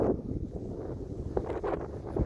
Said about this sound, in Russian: Опять этот ветер.